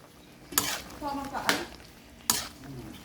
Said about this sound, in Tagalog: Haluin ko lang at luto na to.